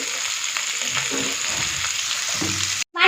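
Green capsicum and three chopped green chillies sautéing in a pan, a steady bright sizzle with occasional stirring scrapes, cutting off abruptly near the end before the sound resumes.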